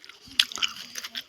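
Someone bites into spicy radish with a sharp crunch, followed by a few softer crunchy chews, close and fairly quiet.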